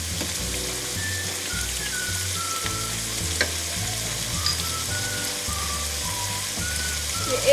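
Two large onions, sliced long, fry in a pan toward dark brown, crackling in a loud, dense, rain-like sizzle that runs steadily throughout, close by, with a few faint stirs and no speech.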